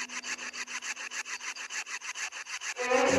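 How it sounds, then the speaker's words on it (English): Rhythmic hacksaw strokes cutting through material in the video game Home Sweet Home, about fifteen quick, even back-and-forth rasps in a steady loop, close and clear, ending in a brief rougher scrape. "Oh, a hacksaw."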